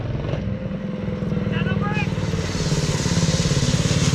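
A mini bike with a Harbor Freight Predator engine runs steadily close by, its small single-cylinder putter holding a rapid even pulse that swells slightly, while people talk over it.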